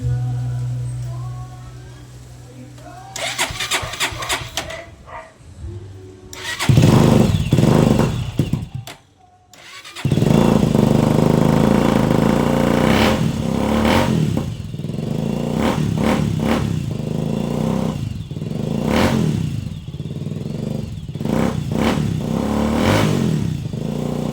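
A 400cc motorcycle engine idles with a loud, throaty rumble, briefly revving and clattering before settling back into a steady running drone.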